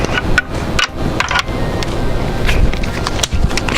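A power drill whirs and grinds steadily while drilling a pilot hole, loud and close, with brief pauses and bursts of mechanical clatter.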